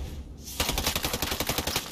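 Rapid automatic gunfire in the Ghost Recon Breakpoint video game, a sustained burst of closely spaced shots starting after a brief quiet moment and running steadily to the end.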